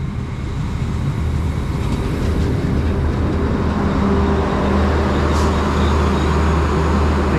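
A train pulling into a station on the line to Cork, a steady low rumble and engine drone with faint squeals, sustained and fairly loud.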